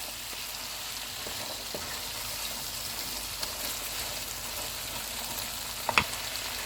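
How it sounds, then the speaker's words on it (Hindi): Boiled chickpeas fry in a pot on a high flame, giving a faint, steady sizzle with a few soft stirring scrapes and one sharper clatter near the end. "उबले हुए चने डालेंगे। इनको 2 मिनट तक भूनेंगे।"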